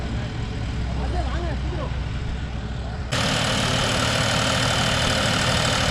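A John Deere 5405 four-wheel-drive tractor engine runs loudly and steadily at close range while working a five-tine cultivator, its rumble getting louder and harsher partway through as the load or wind noise rises.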